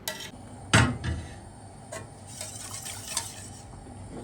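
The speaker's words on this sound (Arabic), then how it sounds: "لازم نفضل نقلب كده لحد لما الدقيق كله يختفي" A spoon stirs béchamel of flour, milk and ghee in a pot on the stove, giving close, intermittent scraping and clinking against the metal with a few sharper knocks and no talking.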